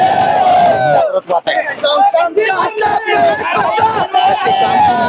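Supporters celebrate a panel's election win at the Karad ST employees' society with loud crowd cheering, shouts and whoops. The clamour stays close and dense throughout, with a couple of brief dips.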